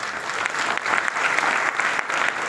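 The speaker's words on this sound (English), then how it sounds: "give a round of applause to yourself" Audience applause fills a hotel function hall at a company anniversary gathering, a steady dense clatter of many hands that holds level throughout without voices on top.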